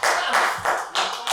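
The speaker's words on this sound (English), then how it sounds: "Clap, people." Audience clapping at a poetry event, brisk enthusiastic applause from a crowd filling the whole moment at close range.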